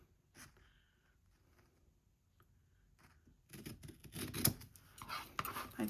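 Scissors snipping through strips of brown kraft paper during a scrap-paper craft, a few faint snips early then a louder burst of close cutting and paper rustle toward the end.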